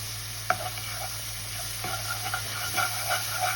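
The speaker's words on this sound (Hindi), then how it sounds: "अब ये देखेंगे हमारा लहसुन और अदरक देखें कितना अच्छा फ्राई हो गया" Garlic and ginger paste frying in a pan for a chicken makhani white karahi, a steady close sizzle with a hum underneath, broken by a few soft scraping stirs.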